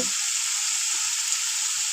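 Pasta cooking lightly in butter in a pan gives a steady, even sizzle that holds at one level throughout, close by, with no talking.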